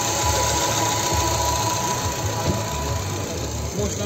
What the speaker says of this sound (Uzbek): motorda chotka ishlab turibdi, ovozini eshitinglar